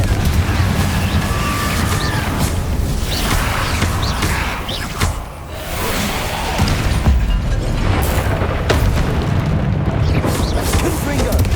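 Repeated fiery spell explosions from the Confringo curse in Hogwarts Legacy, a dense run of loud booms and crashes layered over continuous battle noise, with speech mixed in throughout.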